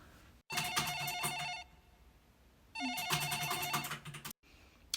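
A telephone rings on a call that goes unanswered, with two long bursts of bright trilling bell ringing separated by a quiet pause, clear and alone.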